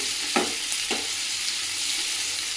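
Onions fry in a pan with a steady, loud close sizzle while a spatula stirs them in two or three distinct scraping strokes.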